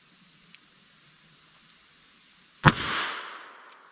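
A single gunshot from a 4.2-inch Ruger SP101 revolver firing a .32 S&W Long 90 grain semi-wadcutter, a sharp close crack followed by a short decaying echo, with a faint tick before it and quiet surroundings.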